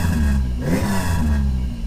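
A 3800 V6 engine in an F-Body car with a poor idle hums steadily, then briefly revs up and falls back, the pitch rising and dropping once, close and loud.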